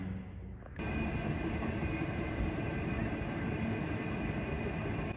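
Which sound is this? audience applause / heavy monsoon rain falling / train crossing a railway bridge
train crossing a railway bridge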